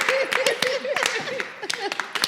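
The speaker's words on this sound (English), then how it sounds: "somebody give us a hand clap of praise for Audrey" Hands clap in a quick, uneven rhythm, praising Audrey, the tambourine queen, at a church-style gathering. The sharp claps come close and fairly loud over a steady voice that talks throughout.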